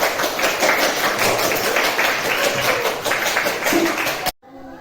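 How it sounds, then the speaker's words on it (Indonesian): A classroom of students applauds together after a correct answer, dense steady clapping filling the room for about four seconds before cutting off abruptly. "Oke, tepuk tangan"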